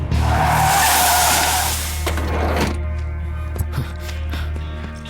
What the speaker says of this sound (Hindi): गाड़ी रोक पहले